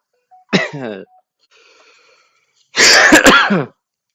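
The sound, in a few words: coughing fit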